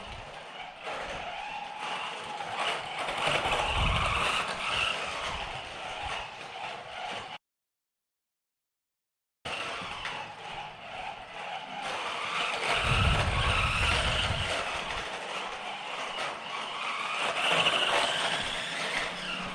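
A vintage Tamiya 1/8 scale RC sidecar on its first run in decades gives off a continuous buzzing electric-motor whine. Tire scuffs and skids come and go as it drives, with a short silent gap midway.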